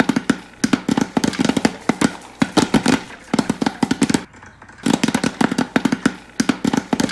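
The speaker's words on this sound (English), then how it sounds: "Balloons popping." Balloons are popped one after another in rapid bursts of sharp, loud cracks, with a short pause partway through before the popping resumes.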